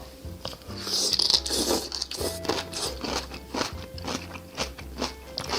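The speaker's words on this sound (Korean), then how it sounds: "그 아삭아삭하고 양념이 아직 덜 배어 있는 그 김치입니다" Crunchy, freshly made homemade kimchi being bitten and chewed up close, with a run of sharp wet crunches and a rhythmic chewing pattern, heard alone with no talk.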